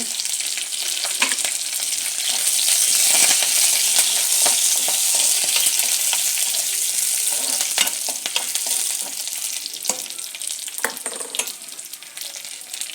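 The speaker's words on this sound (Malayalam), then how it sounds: "കറിവേപ്പില ഇട്ട് കൊടുത്തു." Curry leaves crackling in hot oil in a pan for a chickpea curry, a loud, close, steady sizzle with sharp pops and spatters throughout, alone with no talk.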